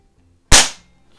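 A Crosman model 102 pump .22 repeater air rifle fires a single sharp, loud crack indoors in a garage, and the report decays quickly into near silence.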